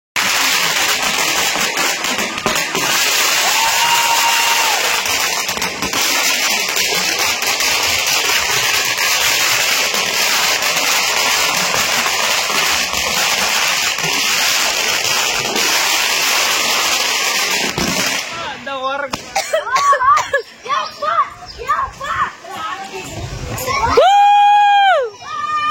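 A 5000-count firecracker string bursts at a family celebration, a loud, continuous crackling barrage lasting about eighteen seconds. It then cuts off, leaving scattered voices and a rising whistle-like squeal.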